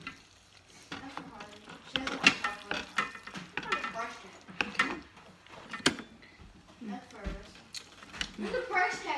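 A utensil scrapes and clatters as spaghetti with meat sauce is lifted from a pan onto a plate. The knocks are close and irregular, and a voice speaks now and then over them.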